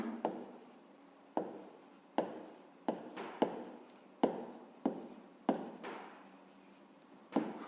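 A pen or pencil writes by hand on paper while someone works a math exercise. Close, distinct scratching strokes come in short bursts with brief pauses between them, and no one speaks.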